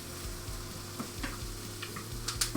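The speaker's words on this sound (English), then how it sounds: "Give me an additional stir here." Food stirred in a hot pan, with soft repeated scrapes and clinks over a low sizzle, a few light knocks near the end, no voices.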